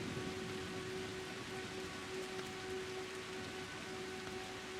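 Steady rain falls in an even, soft hiss with faint patter, quiet and continuous throughout, with a low constant hum beneath and no voices.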